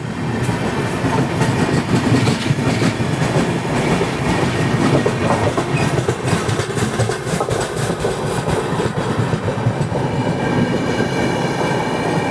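Inside a 3 AC coach of the Rajya Rani Express 17611 between Nanded and Mumbai, a loud, steady rumble of wheels and rattling carriage runs throughout, with rhythmic clickety-clack over the rails.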